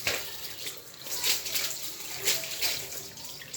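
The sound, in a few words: washing kilishi meat in water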